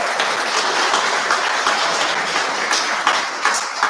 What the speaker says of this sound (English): you can applaud these as they come out if you like